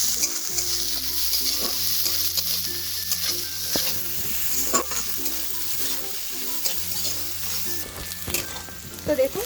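Two medium onions are stirred and fried in a pan until soft for a homemade chicken stew, with a continuous sizzle broken by scraping spatula strokes and clinks, close and moderately loud, with no voices.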